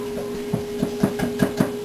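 Cream cheese and a cup of sour cream being mixed in a bowl, giving a steady run of soft, rhythmic thumps and scrapes about twice a second, close and moderately loud with no talking.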